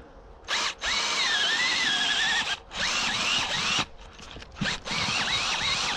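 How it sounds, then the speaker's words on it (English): Drill-powered auger boring a hole for trap setting outdoors, a loud close whining motor that runs in several long bursts, pitch sagging and rising under load, separated by short stops. "First year using an auger and I love it."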